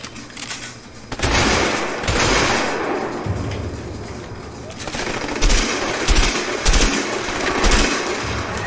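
Gunfire rattles through a shootout in the video game A Way Out, with rapid automatic bursts and single shots repeating loudly, mixed with voices talking during the fight.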